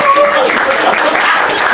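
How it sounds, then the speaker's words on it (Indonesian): A studio audience at an Indonesian stand-up comedy talk show applauds in a short, dense burst of clapping with crowd noise mixed in. "Tepuk tangan dong."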